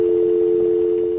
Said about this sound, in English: The caller suddenly hangs up.